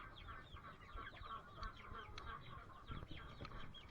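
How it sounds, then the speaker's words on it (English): A hen clucks steadily and softly in a repeated, busy rhythm, fairly close, with no talking. "That's my grandson's hen."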